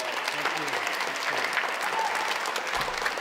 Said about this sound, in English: Can we give a big round of applause for David Klein-Lovett?